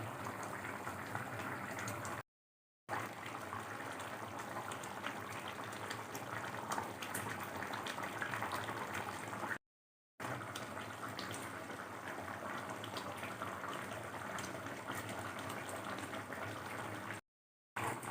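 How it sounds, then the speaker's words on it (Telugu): Telugu fish curry (chepala pulusu) boiling in a pot, a steady bubbling simmer that runs continuously with three brief silent gaps. "చేపల పులుసు బాయిల్ అయింది"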